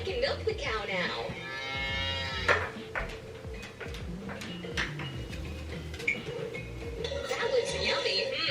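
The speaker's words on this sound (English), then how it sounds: "I can milk the cow now." Farm cow mooing a few times at a moderate distance, drawn-out lowing calls among clinks and household noise, with people talking nearby.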